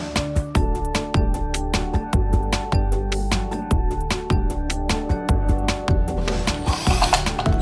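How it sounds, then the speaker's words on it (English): Factory assembly machinery for LED street lights clatters in a steady run of sharp mechanical clicks and ratcheting knocks, dense and close, with ringing metallic tones underneath and no voices. "Factory machine operation."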